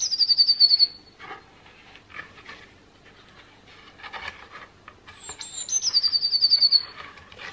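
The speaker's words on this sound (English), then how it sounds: "So you really get a good amount of birdsong played." Recorded birdsong played from the buttons of a children's spring sound book: high, rapid trilling chirps open and return near the end, with softer warbling calls between, close and clear.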